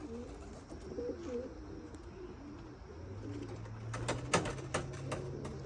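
Racing pigeons coo softly in a loft at supper, low repeated throaty calls close by, joined later by a few sharp clicks and a steady hum.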